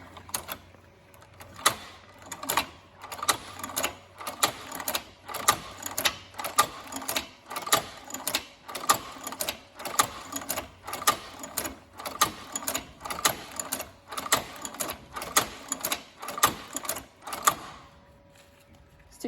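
Cowboy Outlaw leather sewing machine stitching in a steady run of sharp, rhythmic mechanical clacks, loud and close, with a low motor hum beneath and no voices.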